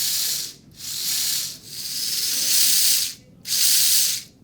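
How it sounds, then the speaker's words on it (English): Fast servo on an Onisiki Nekomata limited-edition micro drift car, whirring in several loud, quick bursts separated by short pauses, with faint rising-falling whine tones between movements. "Servo is extremely fast."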